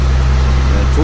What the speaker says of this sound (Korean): 보시는 것처럼 엔진 소리가 이래요.